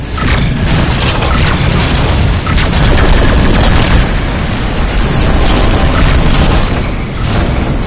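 A target ship blowing apart in the space combat game Rebel Galaxy, heard as a loud, sustained booming explosion rumble mixed with crackling bursts and mechanical noise, continuous for several seconds.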